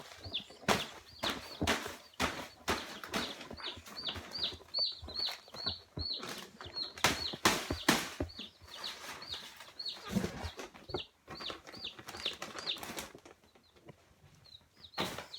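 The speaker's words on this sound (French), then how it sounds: "les poussins vont être dans ma chambre" Baby chicks peep in a bedroom, with high, thin chirps repeating rapidly and irregularly throughout, close and fairly clear, with scattered bursts of rustling and movement mixed in.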